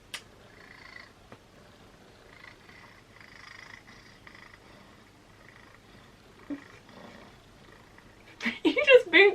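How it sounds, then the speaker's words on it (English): A Sphynx cat purrs with a faint, low, steady rumble close by, and a voice breaks in loudly near the end. "If anyone wants to get a Sphinx cat, this is literally what it's like."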